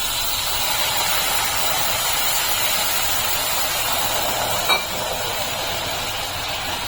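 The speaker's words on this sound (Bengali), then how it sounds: "এখন আমি এর ভেতরে দুধ দিয়ে দিচ্ছি" Milk poured into hot caramel in a pan gives a steady, loud sizzling hiss that holds evenly for several seconds, with one small pop partway through.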